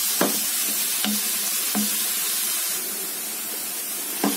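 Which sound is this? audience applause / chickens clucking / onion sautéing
onion sautéing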